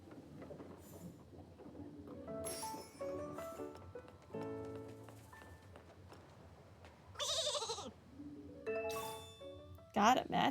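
Flourish sheep in the video game Infinity Nikki bleat in short, repeated game-audio calls, standing out over soft background music with a louder cluster of bleats near the end.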